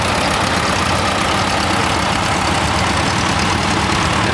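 A 1957 350 Utility diesel tractor runs steadily with a loud, continuous low engine drone and no pauses, with no talk over it.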